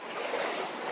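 Oneonta Gorge waterfall: steady broadband rushing of falling water, dense and even, close by with no breaks and no talk.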